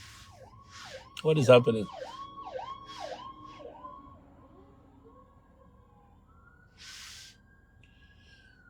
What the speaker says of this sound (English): As soon as the fire service passes, there's an ambulance following.